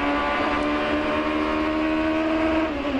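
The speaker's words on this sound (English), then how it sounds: "If you catch the rev limiter, as you heard there, that misfire just at the end of a straightaway" Onboard Toyota Atlantics open-wheel race car at the 2005 Toronto street race, engine screaming at high steady revs against the rev limiter with a slight misfire, loud and continuous.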